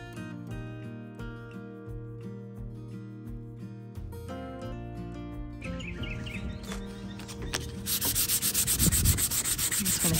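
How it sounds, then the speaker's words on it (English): Dried clay filler on painted furniture is sanded by hand. Background music plays throughout, and near the end quick rhythmic rubbing strokes come through, close and fairly loud. "Hit it with a little bit of sandpaper after that's dried a bit"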